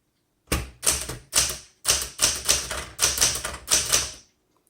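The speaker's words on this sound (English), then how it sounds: "This is just a great typewriter. Let's try out the red ribbon." Rapid keystrokes on a 1967 Smith Corona Super Sterling manual typewriter, loud and close, arriving in eight quick bursts of clacking with short pauses between them and no voices.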